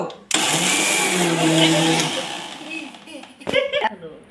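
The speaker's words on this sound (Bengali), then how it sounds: "এখন আমি এই যে কি বানাবো, মিক্সার মেশিনে দিছি।" An electric mixer blender whirs loudly for about two seconds while blending watermelon into juice, then winds down as a voice speaks nearby.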